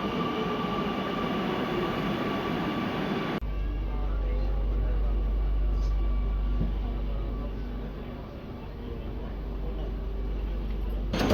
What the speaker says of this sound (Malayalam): ഇതാ മെട്രോ എത്തിയിട്ടുണ്ട്